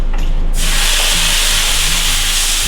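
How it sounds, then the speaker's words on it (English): Shrimp hit a hot pan on medium heat, bursting into a loud, steady sizzle that holds evenly to the end after a brief quiet start. "let's go ahead and cook our shrimp"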